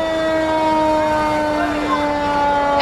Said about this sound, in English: they're going to blow their siren for us